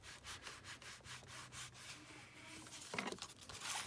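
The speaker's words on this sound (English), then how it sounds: "you can obviously burnish that down where the fold is" Paper fold being burnished down on a folded paper pocket: a quiet, rhythmic series of rubbing strokes, soft and close, with a few sharper scrapes near the end.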